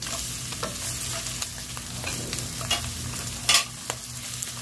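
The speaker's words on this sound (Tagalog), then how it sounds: "Mix lang natin." Shrimp, onion and garlic with pork belly being stirred in a hot frying pan for pancit canton, a steady sizzle under repeated scraping and clinking of the utensil, close and fairly loud.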